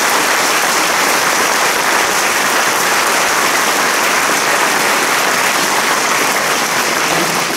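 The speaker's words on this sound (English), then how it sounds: "I'd like to give you a round of applause for him" Steady, loud applause from an audience at an elementary school veterans program, honoring a Navy veteran, with dense clapping filling the whole stretch without pause.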